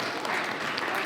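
Audience applause for a player of the season award at an NFC Stuttgart Dashain gathering, a brief, moderate patter of clapping with a voice talking over it.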